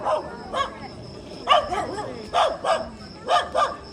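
Dogs that had been sitting are startled and bark in short sharp bursts, about six or seven yaps and barks in clusters, fairly close and loud over a quiet outdoor background.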